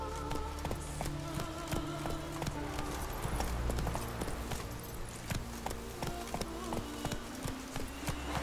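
Horse galloping in The Witcher 3: Wild Hunt, a steady run of close, regular hoofbeats beneath the game's music and ambience, lasting the whole stretch.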